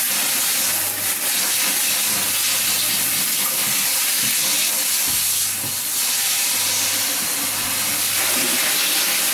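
A shower running water over a hair system worn on the head while it is rinsed: a continuous, loud, even hiss of spray lasting the whole stretch, with no talking.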